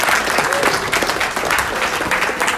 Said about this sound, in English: I wanted us all to give a wonderful round of applause for Walter.